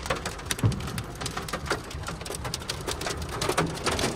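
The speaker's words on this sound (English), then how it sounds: "Oh my God, there's hailstones." Golf-ball-sized hailstones fall outdoors during a hailstorm near the east coast, a dense scatter of sharp ticks and thuds on hard surfaces, irregular and fairly faint, continuous throughout.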